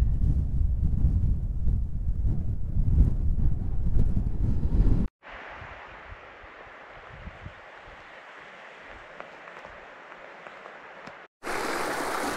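A fast-flowing mountain beck in the Lake District rushes in a steady, broad roar, with wind buffeting the microphone at first and then a nearer, brighter water sound, all without speech.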